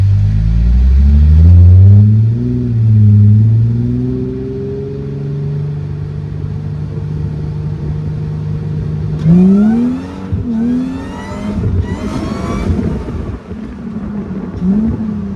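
A supercharged Mercedes SLK320 with the M112K engine pulls hard under boost, its rising engine note sweeping up through the gears for a long stretch, loud and close, with brief whining rises near the end.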